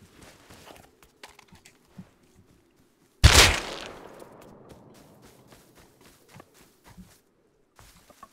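A single sharp gunshot in the video game Rust cracks out loudly and trails off in a fading echo, surrounded by faint scattered clicks and footsteps.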